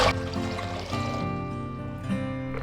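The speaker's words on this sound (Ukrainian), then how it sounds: "Тепер в каструльку наливаємо приблизно літр води." About a litre of water pours into a saucepan while making a squid salad, a steady continuous trickle running close by for a few seconds without any talk over it.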